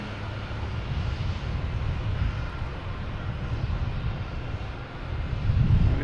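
United Airlines jet bound for Newark at Boston Logan Airport, a steady broadband engine roar holding for several seconds and swelling slightly toward the end, with wind rumble beneath it.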